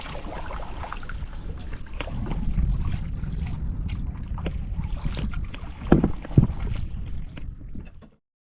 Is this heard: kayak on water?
yes